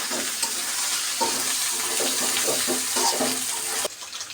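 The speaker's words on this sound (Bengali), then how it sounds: "জিরা বাটা দিয়েও একটু ভাজা হবে মশলার সাথে।" Onion and cumin paste frying with spices in a pan, a loud, continuous broadband sizzle with intermittent scraping stirs, cutting off abruptly near the end.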